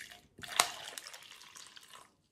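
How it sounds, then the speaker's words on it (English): Hot water poured into a cup for melting ice around a tea light: a brief splash, then a steady close liquid pour that trails off after about two seconds, with no talking. "So I'm going to pour some of that hot water"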